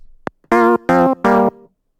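A music track run through the RC20 plugin's magnetic wobble effect: a short click, then three loud sustained synth chords with a slightly wavering, tape-like pitch, each cut off cleanly between gaps.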